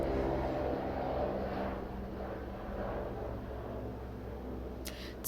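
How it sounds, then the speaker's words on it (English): A helicopter's low, steady rumble drones on continuously at a moderate distance, with no talking. "Sorry, that's a helicopter,"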